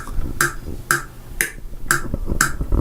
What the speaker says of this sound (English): You can hear the click track going.